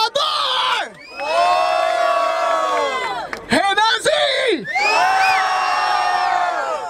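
A packed crowd at the 116th Batalha da Aldeia rap battle in Barueri, São Paulo roars, cheers and whoops loudly and continuously, with a brief dip before surging again, and shouting voices rising above the noise.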